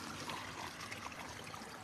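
A koi pond waterfall trickles softly and steadily, a faint, even stream of falling water with no voices.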